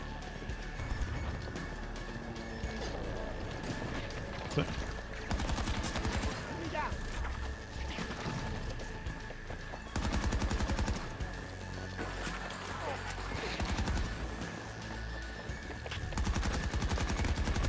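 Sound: AK24 rifle gunfire in video game Battlefield 2042

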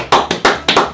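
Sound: audience clapping hands together

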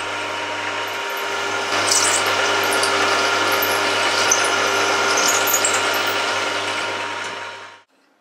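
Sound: drilling a 6.5mm hole through a clamp

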